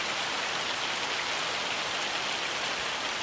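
Steady, dense hail clattering in Farming Simulator 25, a continuous loud hiss of countless tiny impacts with no pauses or talk throughout.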